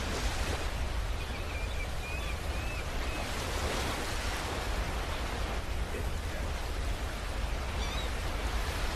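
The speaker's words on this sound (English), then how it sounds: "The waves are crashing up on the shore." Waves on the Lake Erie shore heard from the top of the Marblehead Lighthouse near Port Clinton, a steady, distant wash of surf blending into a continuous windy roar with no distinct breaks.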